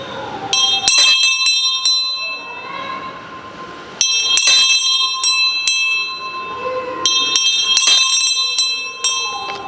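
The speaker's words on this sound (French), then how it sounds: "les 3 coups de clochette" A small altar hand bell rings in a Palm Sunday Mass at a parish in Cotonou, Benin: three groups of bright, close metallic strokes with lingering ring, under faint room murmur.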